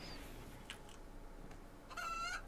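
Chickens in the colony simulation game RimWorld, faintly clucking under a steady low background, with a brief squawk near the end.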